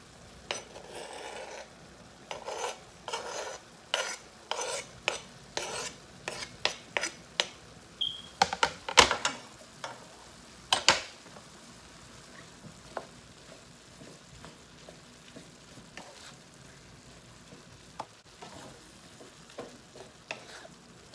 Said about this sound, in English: we're going to go ahead and add in our onions and our garlic now